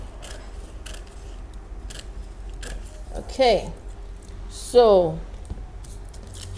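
Scissors snip through paper while a skirt pattern is cut out, a few short crisp cuts and rustles close by, with a person speaking briefly.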